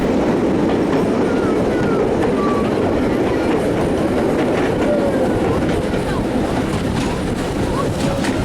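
Le Mastrou tourist train in the Gorges du Doux running on rails, a loud continuous rumble with rhythmic clattering and occasional faint wheel squeals, heard from on board.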